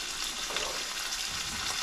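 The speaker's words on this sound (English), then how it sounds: "just frying the bacon off a little bit" Steady, dense sizzling of bacon with Worcester sauce frying in a hot pan, continuous crackle and hiss without a break, close up.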